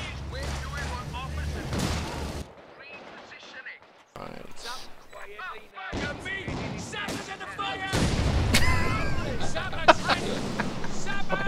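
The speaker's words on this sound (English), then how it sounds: "Where did something explode, by the way?" A video game explosion bursts out as a loud, broad boom partway through, amid other in-game gunfire and battle noise, with people talking over much of it.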